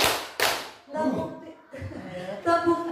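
Two sharp, close hand claps from a group in a positive-culture training session, struck in quick succession, followed by a voice speaking.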